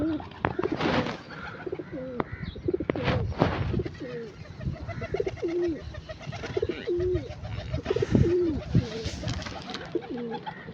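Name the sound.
pigeons cooing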